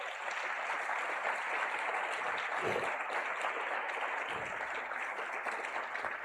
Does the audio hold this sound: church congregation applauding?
yes